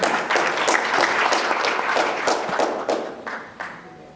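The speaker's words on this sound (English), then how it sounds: "Round of applause" An audience at a DDP local government event applauds its board chairperson with a dense burst of many hands clapping that thins out toward the end.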